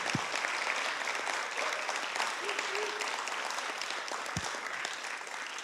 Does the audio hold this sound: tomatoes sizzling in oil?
no